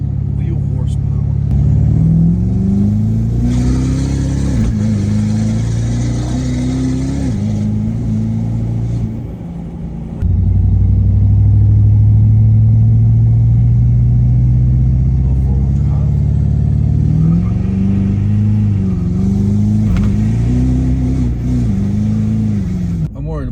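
A 6.7 Powerstroke diesel pickup with a big turbo and straight-pipe exhaust accelerates hard in long pulls, its deep engine roar climbing through gears close and loud, with a brief dip between shifts and people talking over it.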